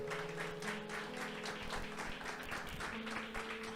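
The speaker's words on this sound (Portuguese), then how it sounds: "Dê um aplauso aí a Jesus" A church congregation applauds together, a steady, dense wash of clapping that carries on evenly throughout, with a sustained musical tone underneath.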